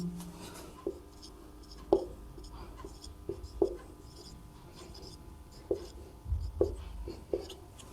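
A pen scratches out numbers during a Class 12 maths lesson, giving short, faint strokes at irregular intervals in a quiet room.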